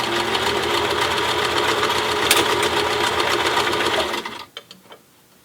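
A sewing machine runs a continuous, close, buzzing top stitch along a cloth face mask with a wire inside, then stops; a few light clicks and handling taps follow.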